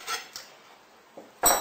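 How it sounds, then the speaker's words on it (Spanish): Metal cutlery is set down on a plate in a few short, light clinks spaced apart, the last one the loudest, with no talking. "dejaremos los cubiertos de esta manera"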